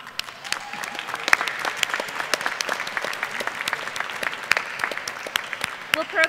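Audience applause at a college diploma and awards ceremony, a steady wash of many hands clapping with sharp individual claps standing out, held at an even level for several seconds.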